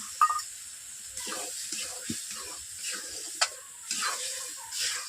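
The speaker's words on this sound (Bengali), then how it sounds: "এভাবে মশলা গ্রেভিটাকে আমি 5 থেকে 7 মিনিট আমি কষিয়ে নিচ্ছি।" Spice gravy with chopped coriander and a splash of water is stirred in a wok, soft scraping strokes and gentle sizzling with a few sharp clinks, close and alone.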